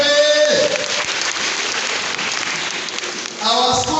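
Applause from a school assembly at a term opening celebration, a dense burst of clapping that runs steadily for several seconds and fades briefly before picking up again.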